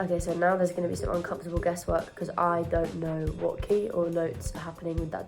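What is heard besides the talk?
No everyday noise stands out behind the speech.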